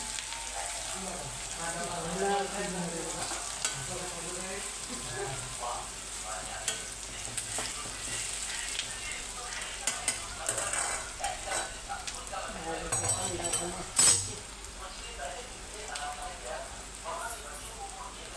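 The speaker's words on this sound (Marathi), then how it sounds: "कांदा जरा भाजायला जरा टाईम लागते बघा" Onion frying in a pan, a soft sizzle broken by repeated stirring scrapes and clinks, fairly quiet, with someone speaking over it in places.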